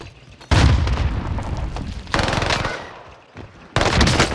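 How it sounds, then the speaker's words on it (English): A frag grenade blast and gunfire in Call of Duty Warzone: a heavy, loud boom erupts, followed by sustained rattling automatic fire and another sharp burst near the end, with no voices. "Sending a frag out."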